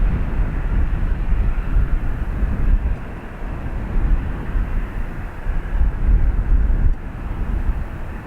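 Airbus A330 airliner at Dublin Airport, a steady low engine roar holding level throughout, broad and rumbling with wind buffeting, no voices.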